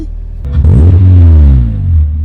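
A Renault Twingo fitted with a K20 engine revs hard while driving, a loud close roar that climbs sharply in pitch, holds, then drops away over about two seconds.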